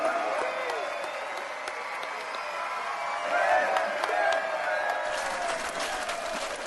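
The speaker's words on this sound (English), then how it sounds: "Everyone give a round of applause for" Steady audience applause fills the whole stretch, a dense wash of many hands clapping with cheering voices mixed in. It is loud and close, and it swells briefly near the middle.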